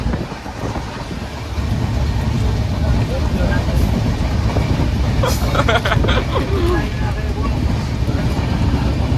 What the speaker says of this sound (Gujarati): જો મિત્રો ટ્રેન હાલે